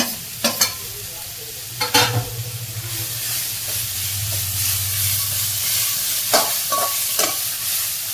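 Carrots and beans sauté in a pan for millet upma, with a steady close sizzle broken by several sharp scraping stirs near the start and again toward the end.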